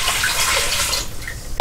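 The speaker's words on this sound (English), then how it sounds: "We're gonna put some water in." Water poured into a pot over meat for dehydrated sloppy joes, a steady splashing rush that tapers off near the end, close and fairly loud.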